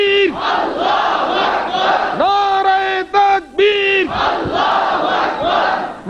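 A large crowd at a Bengali religious gathering shouts Allahu Akbar in unison, loud and near, answering a leader's call in repeated rhythmic bursts with brief pauses between each chant.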